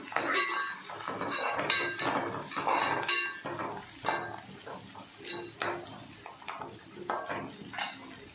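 Masala-coated chicken goes into a pot of half-fried onions with mint and spices and gets stirred, giving repeated close metal scrapes and clinks of a spoon against the pot over a soft sizzle.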